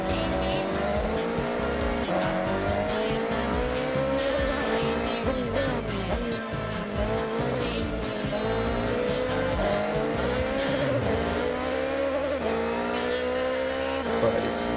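A Nissan Silvia S15 races fast in the video game Forza Horizon, its engine droning and revving through gear changes with tire squeal, loud and continuous throughout.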